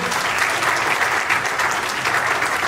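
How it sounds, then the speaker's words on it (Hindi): Dense, continuous applause from a large audience at a Hindi poetry event, loud and steady throughout. "सतीश जी के सम्मान में तालियां आप लोग समर्थन करते हैं"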